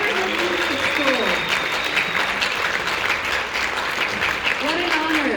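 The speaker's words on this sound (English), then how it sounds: "Another round of applause." Applause from an audience at a Los Angeles County Board of Supervisors meeting following a youth music school performance, steady full clapping throughout with faint crowd murmur and brief tonal sounds under it.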